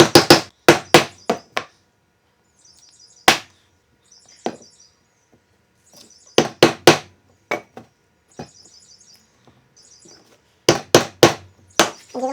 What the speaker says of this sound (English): This is called a mallet.